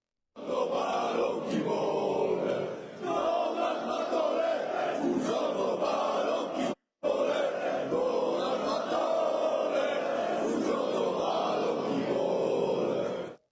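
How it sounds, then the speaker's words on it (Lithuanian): A large crowd marching in a street, loud massed chanting and shouting that runs continuously apart from one brief cut. "daug žmonių žygiuojančių gatve ir garsiai skanduojančių dažnai atrodo šiek tiek bauginančiai"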